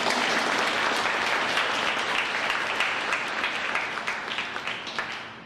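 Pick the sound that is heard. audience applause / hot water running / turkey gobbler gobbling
audience applause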